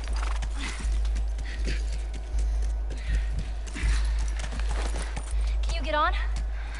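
Horse hooves clopping in the post-apocalyptic action video game The Last of Us, a steady rhythmic beat of hoofsteps close by under game noise, with a brief whinny-like call near the end and voices talking over it.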